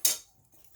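A sharp, bright clink of a spoon against a dish while mashed potatoes are being spooned onto a meat mixture for shepherd's pie, a single close tap that fades fast into near silence.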